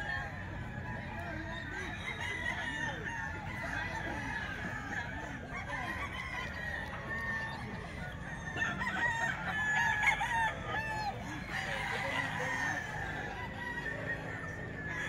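A Gilmore hatch gamecock rooster crows repeatedly amid clucking fowl in a lively outdoor yard, steady and moderately near, with faint background voices.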